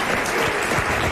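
A studio audience applauds steadily throughout, dense and continuous clapping filling the room at a French radio-television talk show taping.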